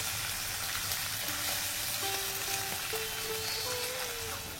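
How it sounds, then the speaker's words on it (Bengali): Bata fish fries crisp in a pan with a constant, even, close sizzle and crackle, while faint tonal hums drift underneath. "আমাদের বাড়িতে বাটা মাছ একটু কড়া করে ভাজা সবাই পছন্দ করে, তাই একটু কড়া করে ভেজে নিচ্ছি।"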